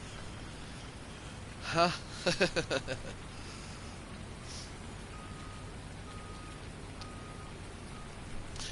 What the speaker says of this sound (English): on the game when it's raining